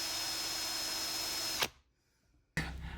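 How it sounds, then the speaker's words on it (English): Power drill boring against a hardened Wiha bit adapter, a steady loud whine running about 1.6 seconds before cutting off into near silence, then starting up again for the final half second. "tried to make a shorter one by drilling this Weeha bit adapter"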